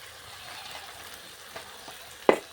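Water lily stems frying in a pan as fish oil is poured in: a low, steady sizzle with faint stirring, ending in one sharp, louder crackle.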